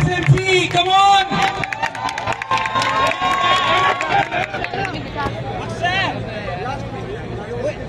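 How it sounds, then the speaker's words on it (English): A lively crowd at a college fest fashion show cheers, whoops and shouts, with some clapping mixed into the loud, excited noise and voices carrying over it throughout. "huge round of applause"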